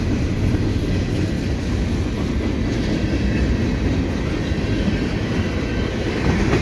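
A CN freight train made up of many tank cars and hopper cars rolls past close by at the Boulevard Île-Perrot level crossing. Its steady, loud rumble and rail clatter keep going with no break and no voices.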